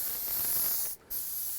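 A spray paint can hisses out a light coat of candy anodized red over a black base, a steady close spray with one brief break before resuming.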